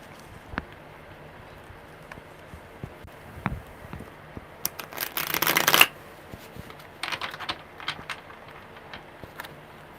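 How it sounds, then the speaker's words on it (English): A deck of tarot cards is shuffled by hand, giving a close run of soft riffling and flicking that builds into a dense, louder burst before tapering into a few scattered card taps. "one more good shuffle"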